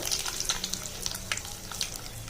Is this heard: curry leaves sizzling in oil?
yes